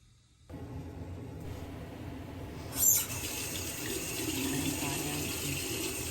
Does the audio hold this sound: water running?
yes